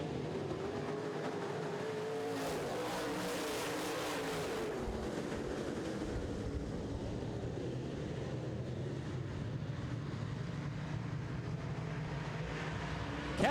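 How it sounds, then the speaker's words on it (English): Big FM modified race cars accelerating under throttle at a dirt oval track, a dense continuous engine roar from the pack, heard from a distance with wind buffeting the microphone. "Big FM Modifieds are under throttle."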